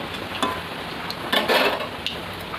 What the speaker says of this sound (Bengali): ওই তেলের মধ্যে একটা শুকনো লঙ্কা, অল্প একটু কালো জিরে, লঙ্কাটাকে একটু ফুটিয়ে নিয়ে ভালো করে কালো করে নেব।